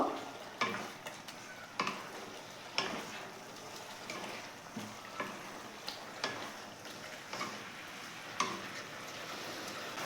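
Fried capsicum and onions being stirred into kadai chicken in a pan, soft scraping spoon strokes at a steady pace over a faint sizzle, quiet and close, no voices.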